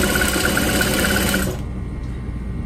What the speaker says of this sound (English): So now that I'm at the end, I'm kind of sewing through that piping.